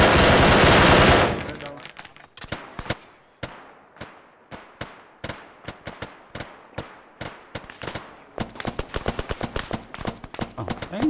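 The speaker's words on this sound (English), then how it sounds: "240's up on the hill, shooting into the compound with friendlies already in the compound" M240 machine gun firing in Arma 3, heard as a loud opening burst and then a long series of sharp single shots and short rapid bursts, growing denser toward the end.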